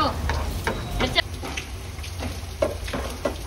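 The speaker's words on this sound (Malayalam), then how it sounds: "നമ്മൾ മുട്ട ഒന്ന് ചിക്കി എടുക്കുക, അതായത് അങ്ങോട്ടും ഇങ്ങോട്ടും ഒന്ന് ആക്കി കൊടുത്താൽ മതി. അതൊന്ന് ഫ്രൈ ആയി കിട്ടിക്കോളും." Beaten egg being stirred and fried in a pan for egg noodle masala, giving a steady sizzle with scraping spatula taps throughout, moderately close.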